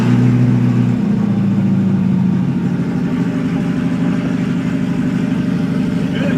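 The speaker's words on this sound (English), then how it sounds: "So we're about to fire it up and find out." A car engine runs after a high pressure fuel pump replacement, settling from a higher tone into a steady, close mid-pitched idle hum that continues alone throughout.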